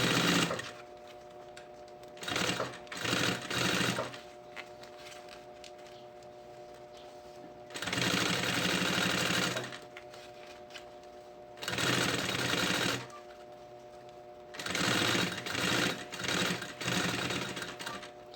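A sewing machine stitches a backpack seam in four loud, sustained whirring runs, each a couple of seconds long, separated by brief pauses, heard up close with no talking.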